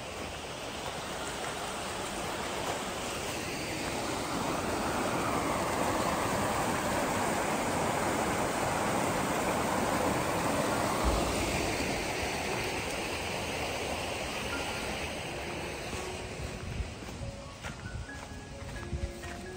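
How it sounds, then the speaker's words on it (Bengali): The snow-covered Menzenschwand waterfall in the Black Forest in late December rushes with a steady, dense roar of falling water, fairly loud and continuous throughout, with no voices. "এখানে একটা ঝর্ণার জল আসছে মনে হচ্ছে,"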